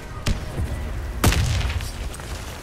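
Two deep booming blasts from a grenade in the shooter game Warface, the second louder and followed by a rumbling tail.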